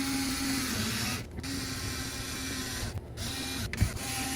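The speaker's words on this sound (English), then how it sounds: "now we're installing the 4 screws." Screws are driven into a pet door with a power driver, a steady buzzing whir broken by short pauses between fastenings, followed by a small clunk near the end.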